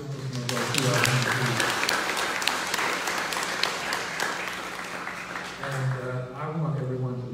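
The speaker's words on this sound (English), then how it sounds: "Would you give Congressman a round of applause?" A community event audience applauds a congressman at a Child Tax Credit gathering, scattered clapping at moderate distance mixed with voices talking over and under it.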